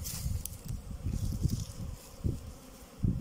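Honey bees buzz steadily around beehives in a dry apiary, a low, dense hum near the hives with occasional louder swells, faint overall and without voices.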